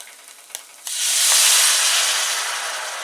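Soup stock poured into a hot pan while making spicy Chinese tofu erupts into a loud, sustained hissing sizzle after a few quiet clicks, then slowly eases off while staying strong to the end.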